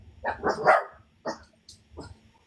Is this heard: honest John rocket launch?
no